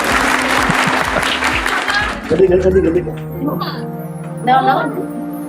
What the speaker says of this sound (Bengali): ওর জন্য হাততালি হবে